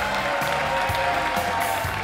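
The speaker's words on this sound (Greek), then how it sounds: "Αξίζει το τριπλό χειροκρότημα." Studio audience on the Greek game show Wheel of Fortune (Ο Τροχός της Τύχης) applauding, a dense steady wash of clapping filling the whole moment at close range.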